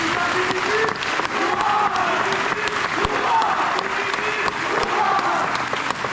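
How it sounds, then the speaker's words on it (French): An audience at a Walibi Belgium amusement park event applauds the park staff with loud, continuous clapping and crowd noise, while voices murmur and call out underneath. "Je pense qu'on peut encore les applaudir un petit peu."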